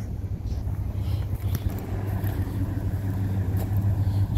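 A 1999 Ford F-150 engine runs at a steady idle, giving a constant low rumble with a droning hum, close to the mic and alone with light wind buffeting.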